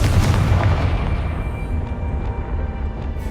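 A Confringo fire-blast spell explodes in the wizarding game Hogwarts Legacy, giving a heavy, booming blast with a rumbling roll that fades under faint, scattered pops.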